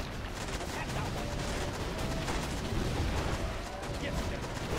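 Inferno cannons fire in Command & Conquer Generals with the Contra mod during a player-versus-player battle, giving a dense, continuous barrage of booming artillery shots amid constant battlefield noise, with game voices cutting in.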